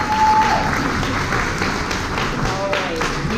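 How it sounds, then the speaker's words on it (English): A conference audience applauds steadily throughout, a dense continuous wash of clapping at moderate loudness with no talk over it. "you all deserve a round of applause"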